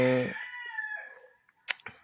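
A red junglefowl rooster gives a single loud, close crow that rises and then trails off, followed by a couple of brief faint clucks.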